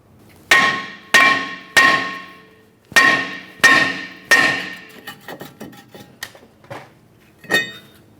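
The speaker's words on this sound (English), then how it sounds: "We'll lightly use a hammer and we can tap on this" Hammer tapping on a brake rotor to break it free from the wheel hub of a 2008-2012 Jeep Liberty: six loud, ringing metallic strikes with decaying tails, then a run of quieter, softer taps and one last knock.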